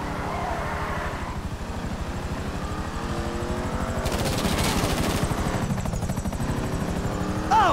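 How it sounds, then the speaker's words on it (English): Helicopter in the video game GTA V, a steady rotor chop under gunfire bursts and engine noise, loud and continuous throughout. "Another chopper!"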